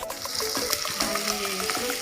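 Onions sizzle steadily in a hot pan while bitter gourd and potato masala fry is being cooked, a close, even crackle with faint popping throughout the short stretch.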